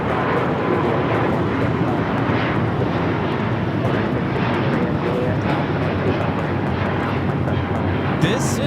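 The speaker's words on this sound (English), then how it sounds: "This is Japan Airlines Flight 15 taking off to Tokyo Haneda on the A350 1000" A Japan Airlines Airbus A350-1000 heavy jet takes off from Los Angeles LAX, producing a loud, steady, broadband engine roar that holds throughout without letting up.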